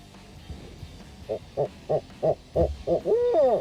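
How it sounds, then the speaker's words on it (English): An owl hoots in a rhythmic series of about seven evenly spaced, deep calls, clear and fairly close, ending in a longer wavering note, with no talking. "Awesome footage of this owl."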